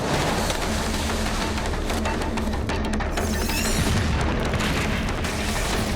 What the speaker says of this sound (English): It was a crazy, huge explosion that threw the trolley car about 10 feet up in the air